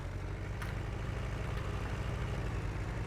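A tractor engine in a farming video game ploughing a meadow drones with a steady low rumbling throb, held at a constant level close up with no talk over it.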